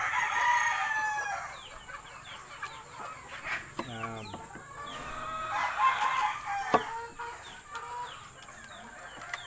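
Gamefowl stags crow several times at moderate distance while other chickens cluck intermittently around them, with occasional nearby knocks and rustles.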